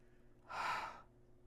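A woman on the floor breathes out in one heavy, breathy rush, like panting after running a mile. It is close and fairly quiet, lasts about half a second, and is heard alone with no talk.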